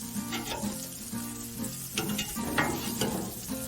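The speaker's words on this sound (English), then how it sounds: "do have my bacon over here warming up" Bacon and cinnamon rolls sizzle steadily on a Blackstone griddle, a close, continuous frying crackle with a few scrape-like bursts of stirring and flipping, with no talk over it.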